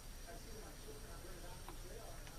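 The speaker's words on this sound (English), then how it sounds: "Just gotta get a good steaming going on it." Steady broadband hiss of a garment steamer working on fabric, continuous and fairly close throughout with no pauses.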